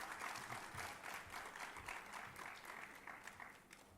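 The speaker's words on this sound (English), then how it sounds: "round of applause" An audience at an annual prize distribution ceremony applauds a student prizewinner. The clapping is faint and distant, steady for a few seconds before tapering off.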